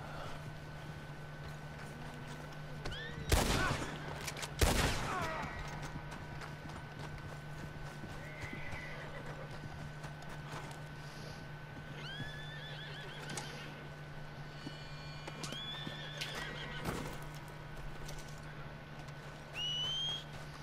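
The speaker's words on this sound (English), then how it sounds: "Let's go try and get that horse." Horse whinnies in Red Dead Redemption 2, a couple of loud close neighs early on and fainter snorts and calls later, over a steady low game hum with occasional hoof clops.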